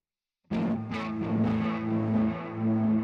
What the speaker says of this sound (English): let's do some distortion here